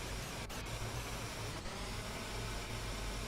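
Three Lockheed L-1011 TriStar jet engines in Microsoft Flight Simulator 2024 heard from outside the aircraft while taxiing, a steady broadband roar and whine, fairly faint and unbroken.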